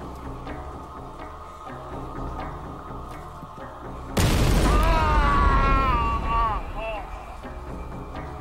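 A bomb left in a university computer science department coffee room detonates with a sudden loud blast, followed by a few seconds of roaring, ringing debris noise that fades to a lower rumble.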